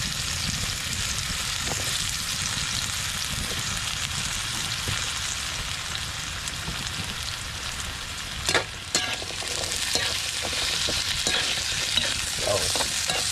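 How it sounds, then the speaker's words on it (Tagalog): Sweet potato (kamote) frying over a high flame in a pan, a dense continuous sizzle with scattered scraping stirs and a few sharper crackles toward the end, loud and close with no talk. "Yan, parang piprituhin muna."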